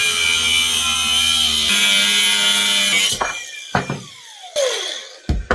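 A saw grinds steadily and loudly through hardened carbon steel for an ice fishing spud, cutting just above a hole, then breaks off into a few short bursts and scrapes before stopping.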